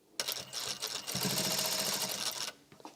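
A sewing machine runs along the long edge of a pleated face mask, a quick rattling stitch burst that starts abruptly, holds steady for about two seconds, then stops, followed by a few light clicks.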